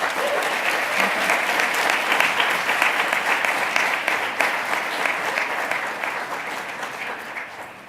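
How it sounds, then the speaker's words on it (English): Applause for high school winners at a university Martin Luther King Jr. writing awards ceremony: dense, steady clapping from a sizable audience that holds strong, then tapers gradually toward the end. "can we give another round of applause for the high school winners?"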